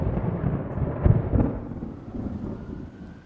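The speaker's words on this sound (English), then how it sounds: "On a dark and stormy night." Thunder rumbles on a dark, stormy night in The Garfield Movie: a low rolling roar swells into two sharp cracks about a second in, then fades into a softer, lingering growl, with no talking.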